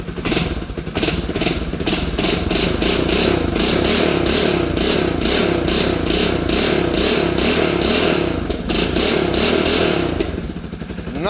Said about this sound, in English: now that we have actually gas in the system, let's try to rev it again